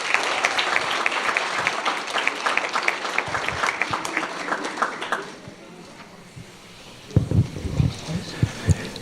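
Crowd at a parish council meeting applauding state champion girls, loud dense clapping for about five seconds that fades away, followed by quieter room noise and a few thumps and voices.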